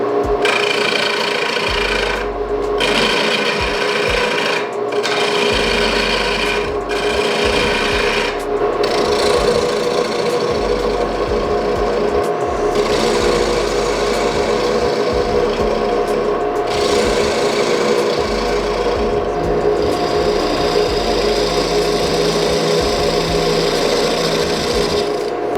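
Lathe tool shaping a tenon on a piece of green elm wood, a loud continuous scraping rasp that runs the whole way with brief dips where the cut lifts off.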